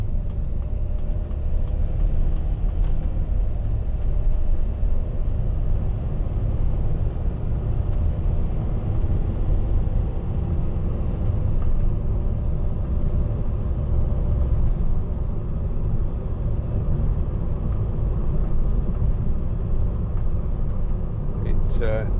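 A 2009 Mercedes-Benz Vito 115CDI diesel van is driving, heard from inside the cabin as a steady low engine and road rumble, with a person talking over it throughout.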